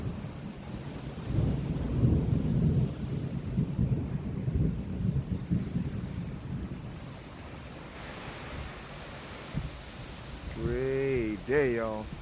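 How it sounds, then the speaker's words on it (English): Thunder rumbles in a low, drawn-out roll with gusty wind noise on the microphone, fading after several seconds before a voice speaks near the end. "Let me get a lightning strike, thank you."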